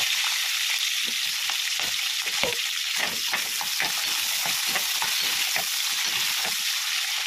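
Green chillies frying in a pan for a tiffin chutney, a steady loud sizzle with occasional stirring scrapes throughout, no voices.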